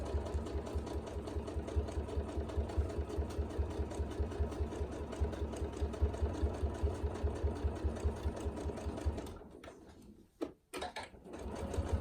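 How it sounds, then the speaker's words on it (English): A sewing machine runs in a fast, even stitching rhythm while sewing down fabric trim on a tool wrap, close and steady before stopping near the end with a few brief clicks and handling noises. "then we're going to sew down the unsewn part of the trim"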